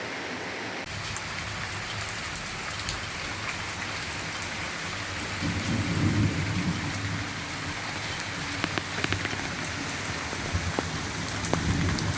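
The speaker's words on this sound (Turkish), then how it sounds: "sağanak şeklinde yağmur yağıyor." Heavy rain pours steadily and densely, with a few sharper drips and splashes standing out near the end.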